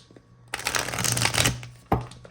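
A deck of tarot cards is shuffled in one quick riffle, a dense papery flutter, followed by a single soft tap.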